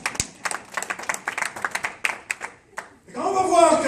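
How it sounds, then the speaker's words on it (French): Church audience clapping for Pastor Jacques: a run of steady, rhythmic claps with some talk mixed in, then a louder swell of cheering crowd noise at the end. "Est-ce que vous pouvez acclamer pour le pasteur Jacques?"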